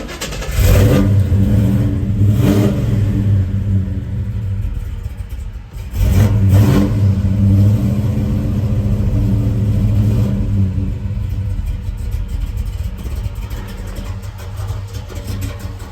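A 1968 Chevrolet Chevelle Malibu with a Keith Black 427 V8 and roller rockers cranks and fires, then revs hard twice in close succession before settling into a loud, lumpy idle, recorded up close with no talking.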